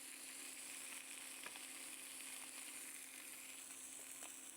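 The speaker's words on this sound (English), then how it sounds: "but you should hear a nice, good sizzle." A smoked steak seared in a hot, oil-coated pan before an au poivre sauce with Pendleton whisky gives an even, steady sizzle with faint crackles, moderately quiet and continuous, with no talking.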